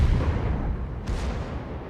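Naval guns open fire in World of Warships, a single heavy boom at the start rolling into a rumbling, fading tail, with a second sharp burst partway through.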